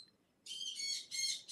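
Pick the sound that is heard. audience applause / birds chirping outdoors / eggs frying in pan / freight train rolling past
birds chirping outdoors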